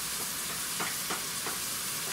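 A wooden spoon stirring cream sauce for Älplermacaroni in a pan, giving a steady soft sizzling hiss with a few brief scraping strokes, close and without talk.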